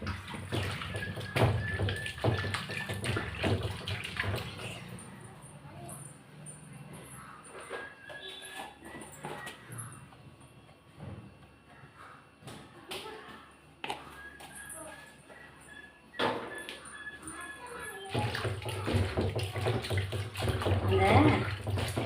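Chicken pieces being washed by hand in water with turmeric: repeated splashing, sloshing and rubbing come in bursts close by, while someone speaks over the work.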